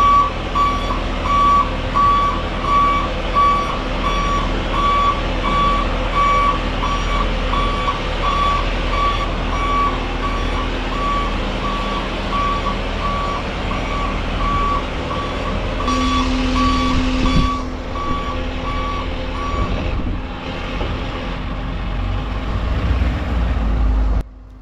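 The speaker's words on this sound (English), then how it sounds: "I'm playing it safe and backing through the barn to get to the wood." A truck backs slowly through a barn on a wet winter day, its reversing alarm beeping in a steady, evenly spaced rhythm over the low rumble of the engine. The beeps and engine stay close and fairly loud, with no talking.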